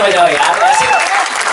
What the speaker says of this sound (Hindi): तालियां बजाओ यार ऐसे,